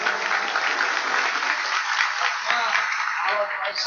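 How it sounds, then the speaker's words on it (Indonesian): An audience at a religious gathering at an Indonesian Islamic boarding school applauds a visiting professor, a steady wash of clapping with a voice speaking over it near the end. "Tepuk tangan untuk beliau."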